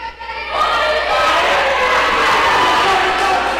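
A crowd of junior academy members cheers at a fight, a loud sustained roar of mixed young voices that rises after a brief quieter start and holds steady throughout.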